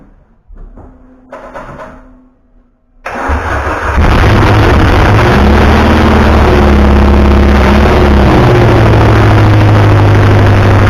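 A Peugeot 205 Rallye engine cranks briefly, then catches and roars loudly into a steady, high-revving run close by, with a quiet hum before the start.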